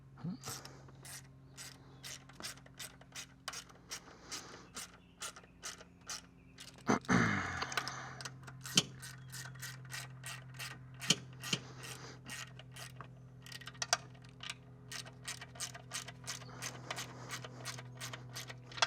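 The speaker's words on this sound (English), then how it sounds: "I'm going to go in the order, the tightening order here, until I can get these snug down." Valve cover studs on a Honda Element are hand-tightened with a ratchet, giving quick, repeated clicking close by, with a heavier metallic clunk partway through.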